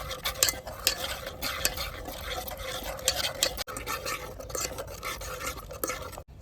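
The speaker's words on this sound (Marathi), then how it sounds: "लिंबाचा रस आता हे सर्व एक चांगल्या प्रकारे फेटून घ्यायचे" A paneer tikka marinade with lemon juice whisked in a bowl, a rapid, busy run of close scraping and stirring strokes, steady throughout with a brief gap midway.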